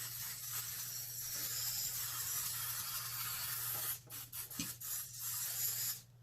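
Spray cleaner hisses steadily onto disassembled AK-47 rifle parts, a continuous close broadband spray running for about four seconds before breaking into several short bursts, with a low steady hum underneath.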